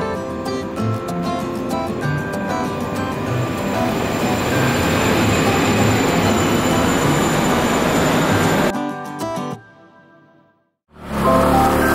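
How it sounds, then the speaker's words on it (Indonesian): A light rail train pulls into a stop in Kaohsiung, Taiwan. Its steady loud rumble carries high wheel squeal and tonal hum, then cuts off abruptly, falls silent briefly and returns. "kita sekarang lagi menunggu LRT sekitar 1 menit lagi."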